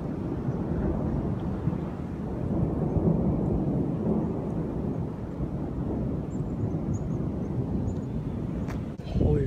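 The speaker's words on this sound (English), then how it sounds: "Look at that thunder." Deep rolling thunder during a storm under gray clouds, a long low rumble with wind buffeting the microphone, fairly loud and continuous throughout.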